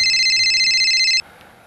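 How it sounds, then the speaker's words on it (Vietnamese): Electronic telephone ring, a steady bright trilling tone that sounds loudly for just over a second and then cuts off, leaving quiet room noise. "Anh nghe điện thoại đi."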